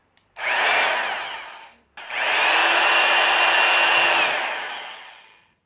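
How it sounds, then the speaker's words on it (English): A power drill whirs up and bores through wood in two bursts, a brief pause between them, the motor straining close by, while building a guitar. "pull the trigger, and just let the weight of the drill push the thing through"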